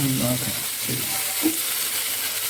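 Mackerel frying in a pan fills the air with a steady, close hiss of hot oil, a few muffled bumps rising through it.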